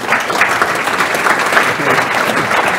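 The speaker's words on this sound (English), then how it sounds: "Big round of applause for the panelists." An audience applauds panelists at a conference session, a dense, steady wash of clapping that holds at full strength throughout, close and loud, with no speech over it.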